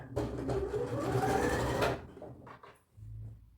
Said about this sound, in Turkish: Kolumu dikmeye başlıyorum.